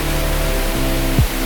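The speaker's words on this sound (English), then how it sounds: "Small waterfall, very beautifully framed by stunning colors." A small waterfall in an Icelandic river valley pours in a steady, close hiss of falling water with a low hum beneath and a brief thump near the end.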